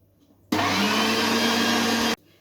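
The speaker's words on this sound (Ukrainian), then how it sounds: "в моєму випадку, це буде м'ясорубка" An electric meat grinder motor switches on abruptly, runs at a steady loud whine for about a second and a half, then cuts off.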